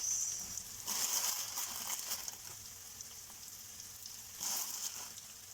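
Sugar snap peas sizzle and crackle in a hot pan with fish sauce, a steady frying hiss that swells at the start and again near the end, close and fairly quiet with no talk.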